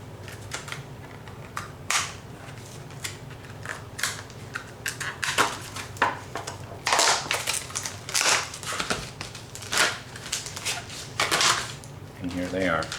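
Packaging for Trijicon HD night sights is handled and opened close by, with crisp crinkling, snapping and tearing bursts of cardboard and plastic in an irregular rhythm.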